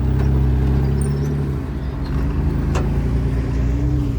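A jeep crawling over rocks off-road, its engine a loud steady low rumble that dips briefly and swells again, with a faint knock partway through.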